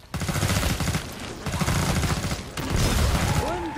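Sustained heavy gunfire in the video game Killing Floor 2 during a survival wave, dense rapid shots filling the whole stretch with barely a pause, loud and close, with no speech.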